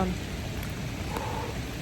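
Steady rain patters in a soft, even hiss close by, with no voices.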